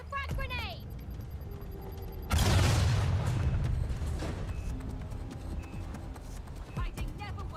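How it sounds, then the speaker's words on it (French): A frag grenade goes off in the video game Watch Dogs: Legion: a sudden loud, close boom that cuts in abruptly and rolls into a long, noisy rumble of debris, with chirpy game sounds and a voice before and after. "Dropped a frag grenade!"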